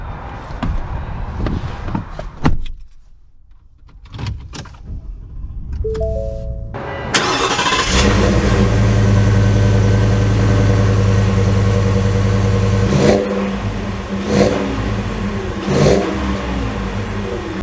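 A Ford F-150's 5.0 V8 cranks and fires after a few quiet clicks, settling into a strong, loud idle-to-drive rumble close by, with throttle swells and occasional thumps as it pulls away.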